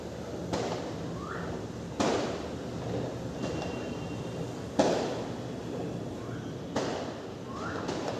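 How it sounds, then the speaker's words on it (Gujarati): Ganesh festival firecrackers bursting outdoors: four or five sharp, distant booms at irregular intervals over a steady background hum, with faint bird chirps in between. "બહાર સરસ ફટાકડા ફૂટે છે ગણપતિના."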